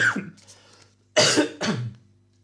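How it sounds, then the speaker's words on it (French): A person coughs from incense smoke: one rough cough, then after a pause two sharp close-up coughs in quick succession, loud and dry in a quiet room. "Alors j'ai mis de l'encens, je tousse un peu."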